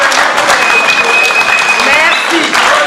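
Audience applause at a Kinshasa fashion show of Congolese couture: loud, continuous clapping from a crowd, with a steady electronic tone and a voice heard over it.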